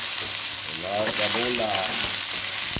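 Shrimp hit a hot pan with garlic and sizzle in a steady, close frying hiss, with a brief spoken word over it.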